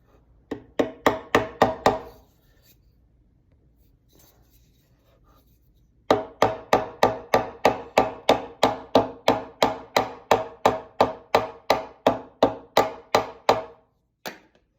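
Frets being hammered into a mandolin fretboard: a quick burst of sharp wooden taps, a pause, then a long steady run of about twenty evenly spaced, loud close knocks, ending with one lone tap.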